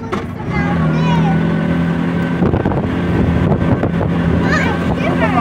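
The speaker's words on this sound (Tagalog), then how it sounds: "Ay, malakas ang hangin." Strong wind buffets the microphone during a tuktuk ride up a mountain road on the Villa Verde Trail, a loud continuous rushing roar mixed with the small engine's drone, while people talk over it.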